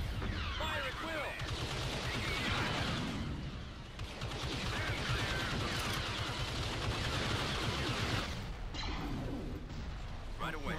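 Sustained gunfire rattles through a video game battle, dense bursts and crackling shots rising and dipping in waves while voices speak over the barrage.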